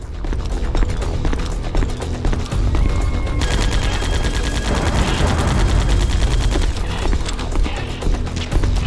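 Gunfire in the video game Metal Gear Solid: Twin Snakes during the Sniper Wolf and Vulcan Raven fights, with dense rapid bursts like a machine gun over a loud, busy game soundtrack, continuous and close.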